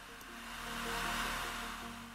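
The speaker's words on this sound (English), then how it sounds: "This was then dried with a hairdryer in the direction of the airflow" A hairdryer blows steadily for a couple of seconds as it dries a dark brown enamel panel-line wash on a 1/12 scale Italeri Bugatti Type 35B model car body. The whir is close, swelling slightly in the middle, with no voices.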